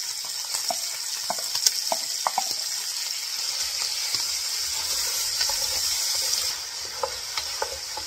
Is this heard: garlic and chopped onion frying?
yes